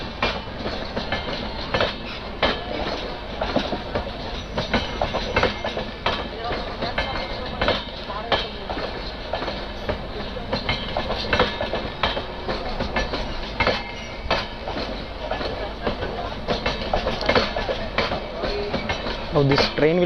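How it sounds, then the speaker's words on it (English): A train passes on the railway bypass line near Vijayawada, with steady rolling rumble and repeated clickety-clack wheel beats over the rails, loud and continuous for the whole stretch, no talking. "Now this train will block the path"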